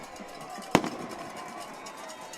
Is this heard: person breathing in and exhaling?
no